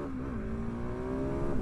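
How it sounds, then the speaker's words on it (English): Motorcycle engine, a Yamaha MT-07 or KTM 690 SMC R, revs steadily up close, its rising harmonic drone climbing slightly in pitch and swelling louder toward the end. "This bike, we'll see what it sounds like"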